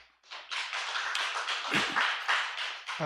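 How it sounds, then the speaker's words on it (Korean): A church congregation applauding during a sermon, a close, fairly loud burst of many hands clapping that starts after a brief pause and carries on steadily. "하나님께 영광의 박수를 올리겠습니다"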